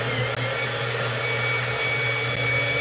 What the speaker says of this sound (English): you're gonna see me turn this blender on, off, and on again to get it spooled up so it doesn't fly out the top